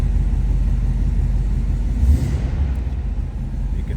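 A 1983 Oldsmobile Cutlass Hurst/Olds V8 idling after a cold start, a steady deep low rumble with a small blip around the middle, close and continuous.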